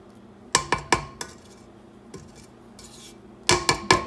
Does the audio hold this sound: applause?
no